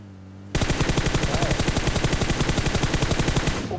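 Rapid automatic gunfire in the video game PUBG erupts suddenly and continues in a fast, steady burst of loud, close shots for about three seconds.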